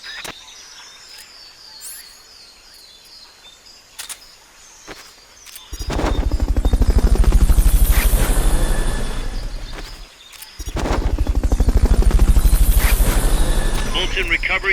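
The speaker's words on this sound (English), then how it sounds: "Fulton recovery subject confirmed onboard helicopter." Helicopter in the video game Metal Gear Solid Peace Walker, a loud rhythmic rotor thump that rises, dips briefly, then returns, following a quieter stretch of game ambience.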